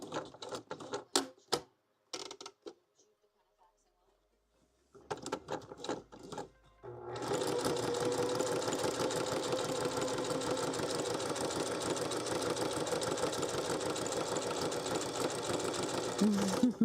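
Sewing machine stitching thread, first a few scattered taps and short bursts with quiet gaps, then a steady loud continuous run of rapid stitching lasting about ten seconds.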